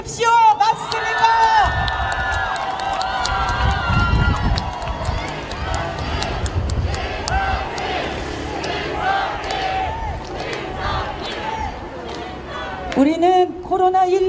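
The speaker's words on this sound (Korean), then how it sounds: "맞다면 환호 한번 해주십시오" Crowd of supporters at an outdoor election campaign rally in Gangdong, Seoul, cheering and shouting loudly throughout, with amplified voices and tonal sounds over the sustained roar.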